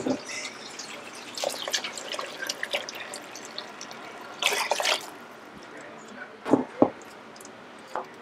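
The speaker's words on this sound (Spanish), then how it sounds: "Le vamos a agregar 3 tazas de agua." Water is poured from a cup into a pot of boiling broth in a home kitchen. There are splashes, drips and trickles, and a few louder splashes near the end, with talking over them.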